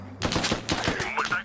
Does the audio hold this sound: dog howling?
no